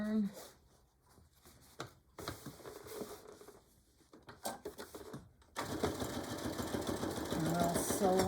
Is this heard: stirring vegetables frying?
no